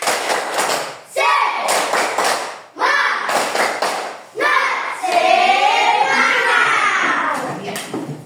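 A class of pupils performing a rhythmic spirit clap (tepuk semangat) in an Indonesian classroom lesson, several loud, sharp clap-and-thump bursts separated by pauses, followed by children's voices chanting together.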